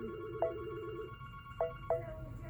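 A telephone rings in the background of a quiet room: a short warbling trill, then three separate electronic chirps spaced over a couple of seconds, moderately soft.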